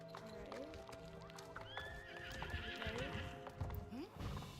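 A horse in a video game neighs and whinnies while its hooves clip-clop steadily, close and fairly quiet, with game music tones underneath.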